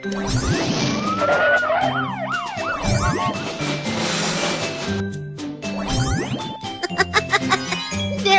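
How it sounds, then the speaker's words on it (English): Cartoon police car siren with rising and falling wails layered over busy, jingly music, loud and continuous, with sweeping tones sounding alongside chimes and percussion, with no voices. "Police car, Police car."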